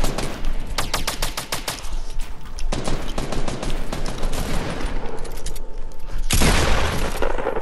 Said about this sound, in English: except for the barrage of fucking bullets